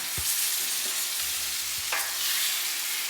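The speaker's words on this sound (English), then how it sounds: "you'll saute this for maybe 2 to 3 minutes. Make sure you're scraping everything up from the bottom." Ingredients for Jamaican brown stew chicken sautéing in a pan while a utensil stirs and scrapes the bottom, a continuous sizzle under several short scraping strokes, close and fairly loud.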